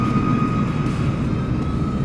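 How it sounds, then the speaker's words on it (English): An airplane passing overhead outdoors, a steady broad engine roar with a constant tone that holds loud and even for the whole stretch, with no voices. "Let's let that plane pass."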